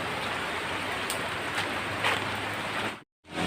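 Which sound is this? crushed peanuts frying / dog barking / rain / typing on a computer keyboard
rain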